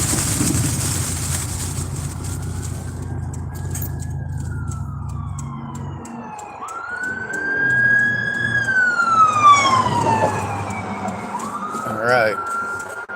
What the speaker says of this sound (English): Also pulling over to the side, somebody in an ambulance.